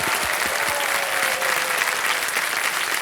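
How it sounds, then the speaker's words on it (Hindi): Loud, sustained studio audience applause on the Hindi TV quiz show Kaun Banega Crorepati, a thick wash of clapping that stays level for the whole stretch. "एक बार जोरदार तालियां हो जाए"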